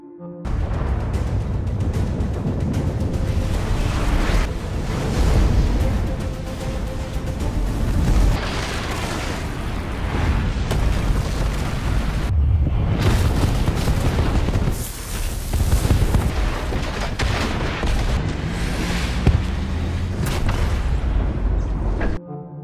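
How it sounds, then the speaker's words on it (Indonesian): A massive explosion blast wave in the film The Wandering Earth roars on and on, a dense rumbling wall of booms and crackling debris that swells and surges for a long stretch. "Gelombang ledakan pun menghantam bumi"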